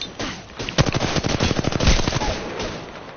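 Rapid automatic gunfire from the video game Apex Legends rattles off in a dense, loud burst of closely spaced shots that fades out after a couple of seconds, with no voices.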